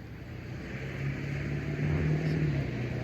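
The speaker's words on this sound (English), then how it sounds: "Sorry about the noise, but you know, we're 15 miles west of Boston, so there's plenty of traffic." Steady road traffic rumbles beside a pond about 15 miles west of Boston, a low continuous drone of passing vehicles that swells slightly midway, moderately loud with no speech over it.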